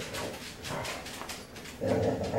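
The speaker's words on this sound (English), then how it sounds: "The dog has a huge bone and she's mad because she doesn't want the cat to get her bone." Dog guarding a huge bone from a cat, making low whimpering growls and yips that run on steadily at moderate distance, growing louder near the end.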